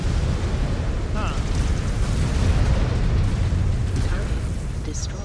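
Destroyed mech exploding in the MechWarrior 5: Clans video game, a loud sustained rumbling blast with dense low roar lasting several seconds, heavy and close with scattered debris crackles.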